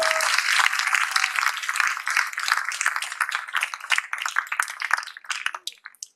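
Audience applause at an evening event in France, a dense wash of many hands clapping that starts loud and gradually thins out and fades over several seconds, with a brief voice near the start.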